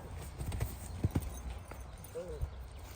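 The hooves of a working mare clip-clop in a few uneven steps close by, with a brief whinny-like call and faint voices in the background.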